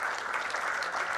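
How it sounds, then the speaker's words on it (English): Audience applause at a governors' forum, heard as a brief, even wash of clapping from a sizable crowd, fairly faint and continuous throughout. "Please give them a resounding applause."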